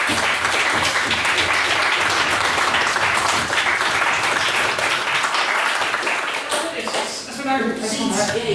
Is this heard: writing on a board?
no